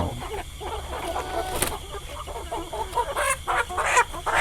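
Laying hens cluck and chatter continuously over a busy farmyard background, with a few louder squawks rising near the end.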